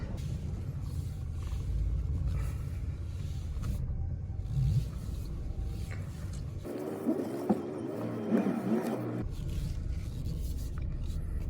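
A Ford Explorer 4.0L V6 idles with a low rumble after a power steering pump replacement. Midway, a brief whining, scraping strain rises as the steering is turned, then the idle settles again.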